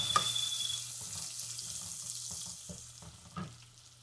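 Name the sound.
washing two cups of rice under running water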